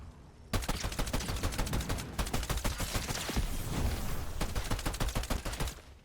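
Pistol gunfire in Fortnite Zero Build, a rapid run of sharp, loud shots fired in quick bursts with brief pauses, continuing for several seconds.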